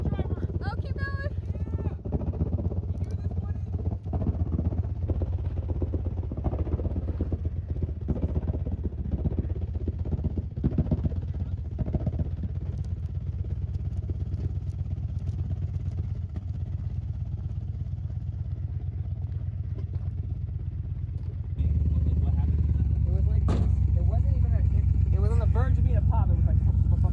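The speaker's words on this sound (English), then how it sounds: "It was just a lower, heavier sound of the motor." A motor engine runs with a lower, heavier sound, a steady loud rumble with clatter, growing deeper and stronger near the end, while people talk over it.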